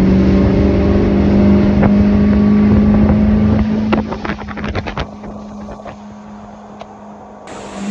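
A motorboat engine drones loudly at 30 mph, then the sound breaks into irregular thumps and slaps as the hull bounces over 3 to 5 foot ocean waves and chop, with wind buffeting throughout.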